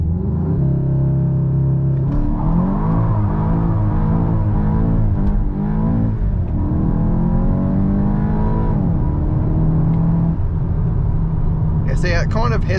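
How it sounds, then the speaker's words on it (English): A 2023 Volkswagen Golf GTI doing a launch-control start at full throttle, the engine note climbing and shifting loudly inside the cabin while someone talks over it. "Hit go, launch control, just hit the brake, full on the brake and then full throttle."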